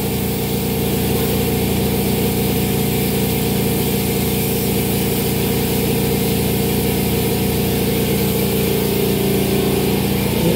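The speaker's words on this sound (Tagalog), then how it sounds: "Yung kanyang compressor" A portable air compressor runs steadily at close range in a car body repair setting, a constant motor drone with a mechanical hum that holds level and unbroken throughout, with no voices.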